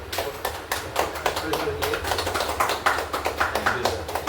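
Applause from a crowd at a business event, dense irregular clapping that carries steadily throughout, fairly close and moderately loud, with voices mixed in.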